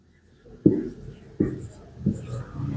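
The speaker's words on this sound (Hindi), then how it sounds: "तो मैं लिख लेती हूँ" A pen or pencil writes by hand on paper during a maths lesson, three distinct scratching strokes spaced under a second apart, close and fairly soft, with quiet breathy talk between them.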